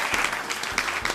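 A studio audience at a Georgian TV show about flooding claps, producing a brief burst of dense, close applause.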